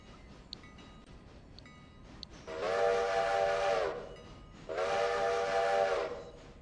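A train in the Railroader video game pulls into a station and sounds two long, loud steam whistle blasts separated by a short pause, over faint background rumble and hiss.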